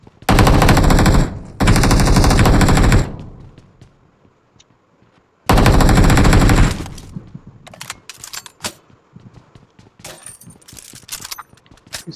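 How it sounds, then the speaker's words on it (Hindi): Machine gun fire in the video game PUBG Mobile: three long, loud continuous bursts, each a second or more, separated by pauses, followed by scattered sharper single shots and clatter. "इस बार मैंने मशीन गन 75 गोलियों के साथ लोड कर ली अपनी।"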